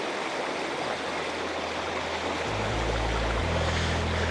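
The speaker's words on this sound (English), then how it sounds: "Lovely milky water down here as it's moving through." A woodland stream tumbles over a waterfall in Padley Gorge, a steady full rush of water close by. A low hum enters partway through.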